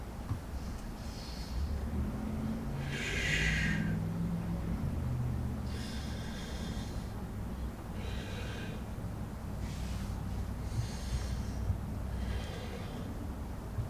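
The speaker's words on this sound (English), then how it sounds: "Now, 3 deep breaths." Three slow, deep breaths taken with eyes closed during a grounding exercise at a stage-play table read: each breath is a soft, breathy rush, spaced a few seconds apart over a low, steady room hum, with no talking.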